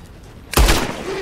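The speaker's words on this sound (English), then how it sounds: "You know what a gunshot is." A single loud gunshot bursts out in Red Dead Redemption II, sudden and booming against a quiet background, followed by a brief fading tail.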